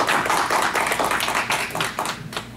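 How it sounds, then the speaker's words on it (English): A meeting audience applauds after a vote on waiving reserves, with clear individual handclaps in a steady, fairly close patter that thins toward the end. "let's have a round of applause"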